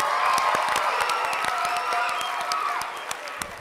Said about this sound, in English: can we have an extra special round of applause for Carol, please?